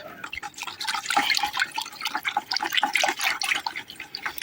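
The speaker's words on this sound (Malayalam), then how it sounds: "ഈ വെള്ളത്തിലേക്ക് ഇട്ട് ഒന്ന് ഇളക്കി കൊടുത്താൽ മതി" Orchid roots are dipped into a small container of water and stirred, giving a close, steady run of light splashing and dripping sounds with no voices.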